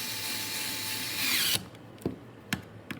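An electric screwdriver drives screws into an Ender 3 power supply with a steady, loud whir that cuts off abruptly, followed by a few faint clicks and taps close by.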